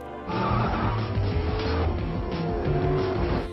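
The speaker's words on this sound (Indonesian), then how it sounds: "Setelah memilih mobil tercepat, Louis pun langsung bergerak untuk kabur dengan remote tersebut." A fast car accelerates hard and speeds away with its tires skidding and squealing: a loud, continuous engine roar and screeching rubber that holds steady for about three seconds.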